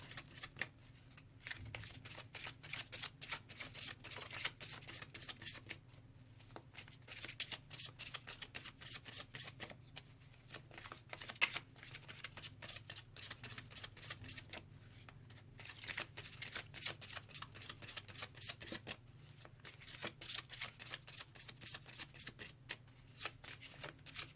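Miracle Now oracle cards are shuffled by hand in a steady run of riffling, flapping card sounds, close and fairly quiet, with short pauses between bursts and no talking.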